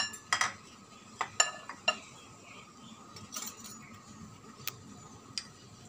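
Banana flower (mocha) being mixed with mustard, green chilli and chana dal paste, heard as a series of sharp utensil clinks and taps against a bowl, irregular and close, with quieter scraping between the hits.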